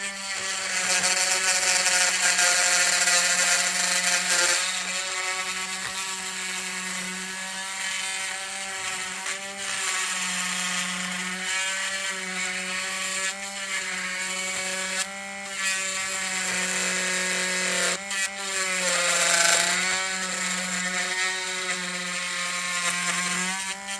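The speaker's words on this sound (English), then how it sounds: "a Dremel can be used to open the space" A Dremel rotary tool whines steadily as it cuts an opening in the plastic tailgate of a 25-year-old Revell Chevy S-10 Lowrider model kit. Its pitch dips and rises as the cut bogs down, with brief pauses.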